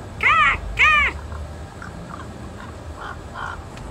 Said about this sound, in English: these crows in my backyard will not stop cawing at each other